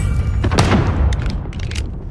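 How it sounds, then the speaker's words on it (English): Gunshots in a first-person shooter video game, a loud close boom followed by a rapid scatter of sharper cracks and thuds over about two seconds, no talk. "Shots."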